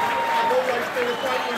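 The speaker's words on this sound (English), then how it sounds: "Ladies, can you give Pat a big round of applause" Dense, steady applause from the audience at a women's boxing event, clapping filling a large room throughout with a voice faintly underneath.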